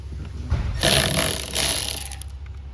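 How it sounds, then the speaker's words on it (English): An electric ratchet with a 10mm socket loosens a battery terminal on a 2019 Ram, giving short bursts of loud whirring spin separated by brief pauses, close up. "10mm on an electric ratchet to remove the battery"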